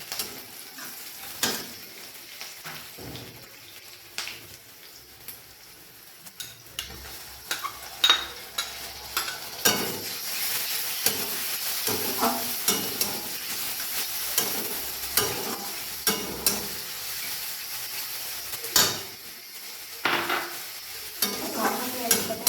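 Prawns sizzle steadily in a hot pan while a spatula stirs and scrapes against the metal, with irregular clinks and scrapes over a continuous frying hiss and no talking.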